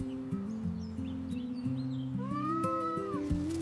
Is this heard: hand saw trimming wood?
no